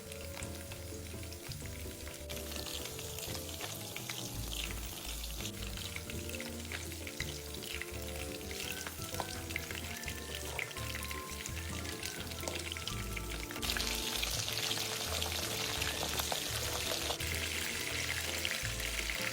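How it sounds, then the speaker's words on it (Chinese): Batter-coated shrimp deep-frying in a pot of hot oil, giving a loud, steady crackling sizzle throughout with occasional stirring clinks. "拌匀后，再放入油锅内油炸。"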